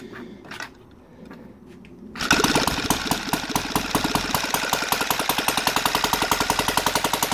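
An OS FT 300 twin-cylinder model engine converted to gasoline starts after a quiet stretch and settles into a loud, rapid, even idle of firing pulses, close by.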